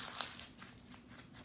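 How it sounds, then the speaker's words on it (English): A sheet of paper, a to-do list, crumpled by hand up close, brief soft crinkling and crackling with a sharper crunch near the start. "I'm going to crumple it up."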